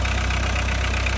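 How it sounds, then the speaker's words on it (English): A VW Westfalia Club Joker Syncro camper's TDI diesel engine idles, a loud, steady low drone with an even mechanical chatter and no change in pace. "Good running engine."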